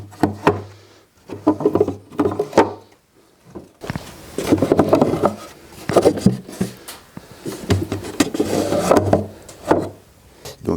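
Wooden tilting drawers handled in a workshop, with repeated knocks, rubs and sliding scrapes in irregular bursts, close and fairly loud, no speech.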